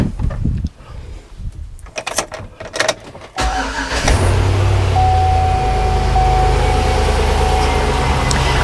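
A Chevrolet Suburban's starter cranks in a few uneven bursts before the engine catches and settles into a loud, steady idle close by.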